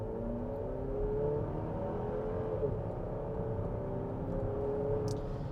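The 2024 GMC Acadia Denali's 4-cylinder engine pulls hard under acceleration, a steady droning rise with rough, unrefined character heard from inside the cabin over several seconds.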